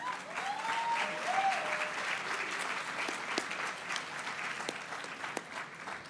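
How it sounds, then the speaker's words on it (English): An awards ceremony audience breaks into sustained, full applause, dense clapping that holds steady and close for several seconds, with a faint whistle early on and a few sharper individual claps toward the end. "Yeah, that's something to clap about."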